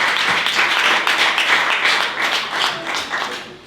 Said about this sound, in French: que tu puisses les encourager par tes acclamations